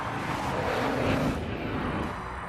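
A Bugatti Veyron supercar's 16-cylinder engine roars past, a broad rumbling swell that peaks and then recedes into the distance.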